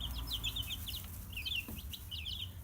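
Young spring chicks, among them a blue Cochin, Brahmas and Americanas, chirp in quick high peeping bursts close by, a busy repeated chatter with no talking over it.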